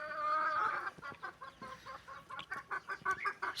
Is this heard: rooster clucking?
yes